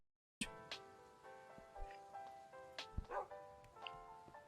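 A dog in Minecraft barking and yipping in several short bursts, close and clear over a steady game background with no speech.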